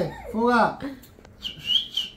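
A person whistles a short wavering tune close by, a few rising and falling notes mixed with brief speech, then a couple of higher whistled tones.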